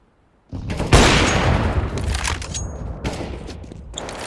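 A grenade detonation in a tactical shooter game, a heavy boom after a short silence, followed by a dense stretch of gunfire with repeated sharp cracks, loud and close.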